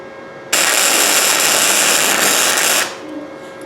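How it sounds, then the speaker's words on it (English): Flux core welder joining two pieces of steel: one loud, steady crackling hiss of about two seconds that starts abruptly and then stops. "I'm gonna go ahead and try to weld that piece with this piece."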